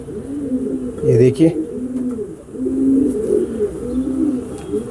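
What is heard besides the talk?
homing racer pigeons cooing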